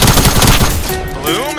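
Rapid SMG fire in the video game Fortnite rattles out as a loud, close burst of quick shots, running continuously for the whole short stretch.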